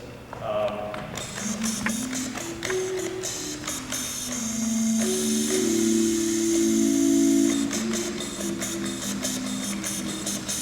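A laser cutter in an electrical engineering lab is made to play musical notes: a short melody of sustained hums stepping up and down in pitch, over steady hiss and bursts of mechanical clicking.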